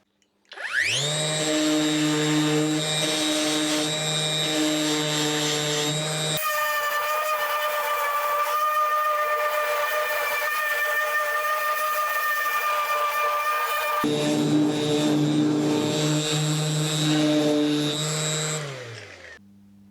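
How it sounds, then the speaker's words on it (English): A power sander runs loudly and continuously over planed boards for a small scrap-wood boat build, its droning tone changing twice as the tool is worked across the wood, then winding down at the end. "I'm just going to give them a little bit of a sand over."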